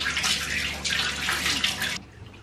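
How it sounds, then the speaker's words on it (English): Tap water splashing while a face is rinsed, a bright rushing spray that swells and ebbs for two seconds before cutting off to near quiet. "then i'm gonna rinse my face"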